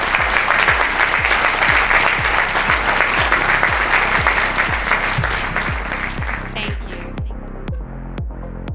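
An audience claps loudly and steadily as Sheryl Sandberg is welcomed on stage, dense applause over a rhythmic thumping beat, the clapping thinning out toward the end.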